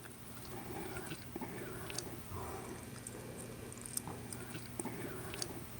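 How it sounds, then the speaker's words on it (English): Loud, wet gum chewing close by, with repeated smacking bites and squishes in a steady rhythm over a constant low background hum. "she chews gum so loud."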